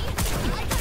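Sustained gunfire in the shooter game Farlight 84, a dense loud burst of shots running through the whole moment, close and continuous.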